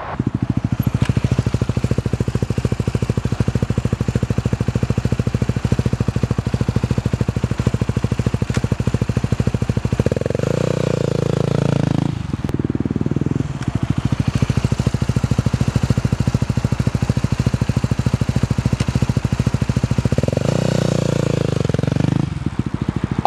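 A clutch-equipped dirt bike engine runs steadily and close, with brief throttle blips and shifts in pitch as the rider downshifts through the gears toward a stop, then revs again. No speech is heard.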